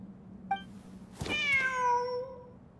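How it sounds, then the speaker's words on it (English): A cat in the video game Genshin Impact gives a single clear, drawn-out meow, preceded by a short chirp, heard alone over a low background hum. "The cat!"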